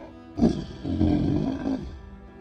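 A human voice imitates a raging fantasy character's roar, a loud, close, growling bellow that bursts out and is held for over a second before trailing off, with no other talking.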